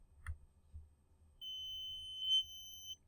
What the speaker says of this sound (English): an alarm goes on.